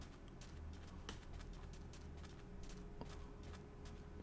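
Soft, evenly paced footsteps from a Mekanism Robit robot following the player in Minecraft, repeating steadily at a moderate volume over a constant low ambient hum.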